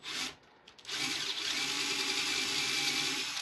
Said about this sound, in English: So I'm going to grind this out a little bit more.